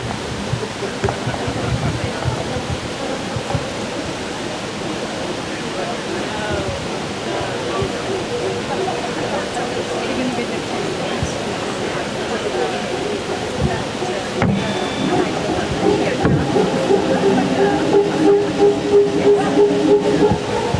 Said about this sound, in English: That's the opening of the gate that actually allows the water into the turbine itself and begins the rotation